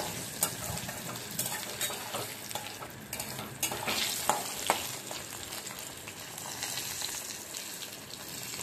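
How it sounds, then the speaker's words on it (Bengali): Bori lentil dumplings frying in oil until reddish brown, a continuous close sizzle with scraping stirs and small clinks of a utensil against the pan, no talking. "বড়ি ভাজা হয়ে গেছে"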